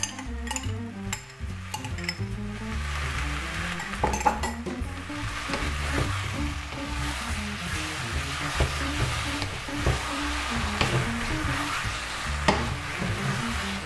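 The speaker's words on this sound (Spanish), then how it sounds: "así que le vamos a poner ya la salsa de tomate frito" Spoon stirring fried tomato sauce into cooked courgette and other vegetables in a pan, with steady sizzling and occasional clinks of utensil against the pan, close and alone.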